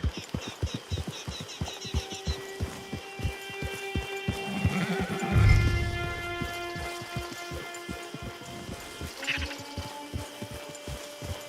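A horse neighs and whinnies in Red Dead Redemption 2 while hooves clip-clop steadily throughout, with a rising snort and swell midway and a game music tone held underneath, no speech.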